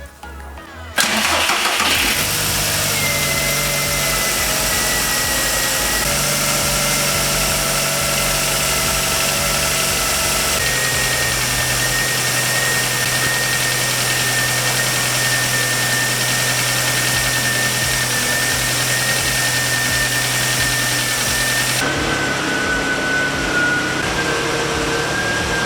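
A car engine cranks and catches during a radiator coolant flush, then settles into a loud, steady idle that runs for over twenty seconds, close by and with no talking.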